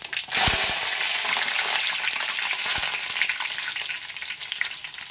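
Urad dal, dried red chillies and curry leaves crackling in hot oil as a tempering, opening with a sharp burst of spluttering that settles into a dense, steady sizzle close at hand.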